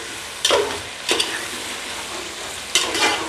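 Garlic-ginger paste with finely chopped green chilies is stirred and fried in a pan for chicken and potato curry, giving a steady sizzle with three louder scraping stir bursts, close and without talk.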